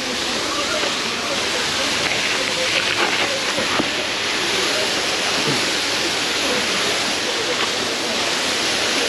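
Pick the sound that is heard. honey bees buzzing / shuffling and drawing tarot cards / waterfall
waterfall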